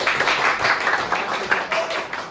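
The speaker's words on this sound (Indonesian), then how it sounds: "Tepuk tangan dulu dong buat teman" Classroom applause for a group of fellow students after a microteaching lesson on free fall, a steady patter of many hands clapping nearby, fairly loud, with no talk over it.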